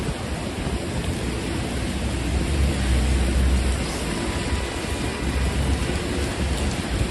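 An extreme rainstorm pours down over Manhattan, New York City, as a dense, constant hiss of heavy rain with a low rumbling undertone, sustained throughout without any talking.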